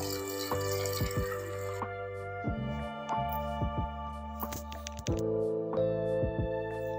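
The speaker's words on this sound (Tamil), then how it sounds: "தண்ணியை நம்ம ஊற்றிடலாம்." Water is poured into chicken drumstick kurma in a pressure cooker, giving splashy, dripping trickles and small plops. The sound is near and moderately loud, and steady tones run underneath.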